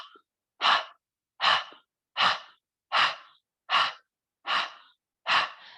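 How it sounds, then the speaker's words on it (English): Seven forceful nasal exhales in breath of fire come at a steady one-per-second rhythm, each a sharp close whoosh separated by near silence, with no talk. "the power of breath of fire is in that exhale"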